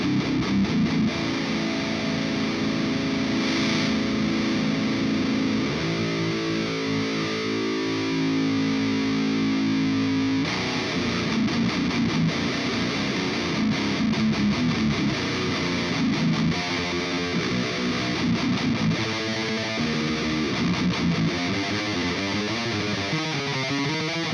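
Heavily distorted electric guitar through a high-gain ENGL amplifier with no boost, playing sustained chords and chugging riffs, loud and continuous with no talking.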